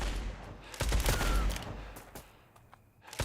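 Gunfire rattles in the Blood West video game, a dense burst of shots and echoing blasts over a couple of seconds, then quieter scattered reports.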